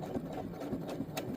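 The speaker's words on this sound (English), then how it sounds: "you're just going to let the machine feed the fabric through for you." A sewing machine stitches a fabric seam with a fast, steady mechanical whir and rhythmic needle clatter, close and alone.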